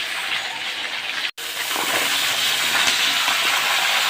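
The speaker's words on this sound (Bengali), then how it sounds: "তো মাছগুলো এখন ভাজা চলছে" Fish heads frying in hot oil in a pan, a loud steady sizzling hiss that runs continuously, broken only by one brief gap, with no talk.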